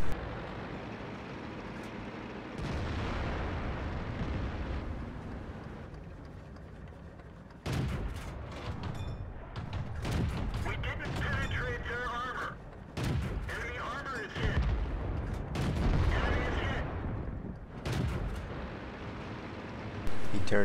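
Tank cannon fire and explosions from World of Tanks on the Sand River map, with several sharp booming shots spread through the clip over engine rumble and game ambience.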